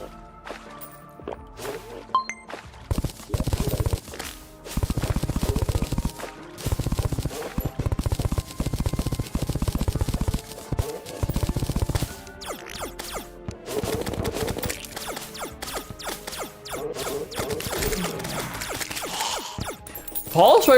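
Rapid rifle gunfire from a ranger character in Terraria, Master Mode, bursts of repeated shots in dense volleys with short gaps, loud and close over game effects.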